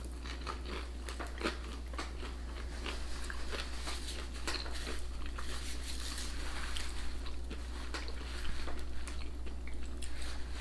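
Crunchy bites and chewing of a fish finger sandwich with crisps, close and fairly quiet, repeating irregularly over a steady low hum, with no talking.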